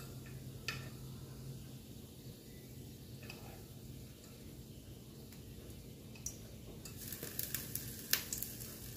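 Annatto seeds sizzle in oil in a sauté pan for chicken sotanghon soup, a faint steady crackle with scattered ticks and a few sharper pops toward the end.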